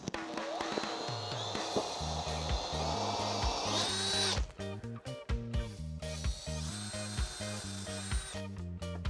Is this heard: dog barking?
no